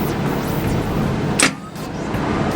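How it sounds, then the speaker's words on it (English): A Pro Mod drag car sits on the two-step at the staging line, its engine a loud, harsh, steady roar. A single sharp crack stands out partway through. "That's when you hear that car go up on the two-step when you're getting ready to leave"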